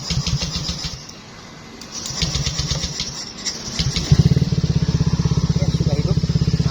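Yamaha Fario 125 motorcycle with a recently rebuilt engine being started, an uneven cranking rumble that catches into a steady, even putter of idling, with someone talking over it.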